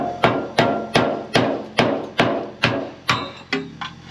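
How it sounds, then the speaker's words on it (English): About ten sharp blows from an Icon hammer land in a steady rhythm, each ringing briefly before the next strike, close and loud. "I think now it's time for a hammer."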